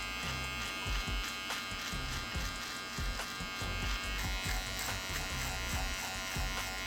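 An electric beard trimmer buzzes loudly and steadily up close while shaping a beard along the jaw and double chin, the motor tone wavering slightly as the blades move through the hair.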